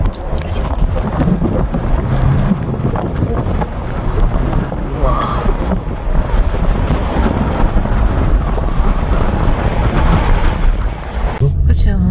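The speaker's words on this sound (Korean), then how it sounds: "오, 바람 봐." Strong wind roars steadily across Arizona State Route 118 on a road trip, a loud continuous buffeting rumble lasting the whole stretch, with a brief lull near the end.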